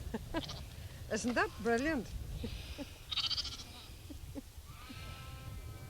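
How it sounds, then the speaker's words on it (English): A goat bleats several times in short wavering cries while being fed by an older woman outdoors on a farm, heard close, with people talking over and between the calls. "She's feeding the goat."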